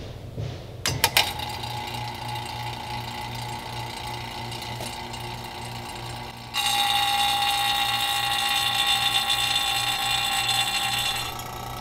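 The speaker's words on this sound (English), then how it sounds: "turn the vacuum pump back on and let it run probably for another 30 to 45 minutes" A vacuum pump runs steadily on a car A/C system, a constant mechanical drone with a low throbbing pulse that jumps louder partway through, with no talking.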